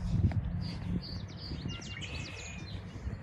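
Birds chirp and trill in wetlands, a run of quick high calls at moderate distance over low rumbling outdoor background and faint movement noise.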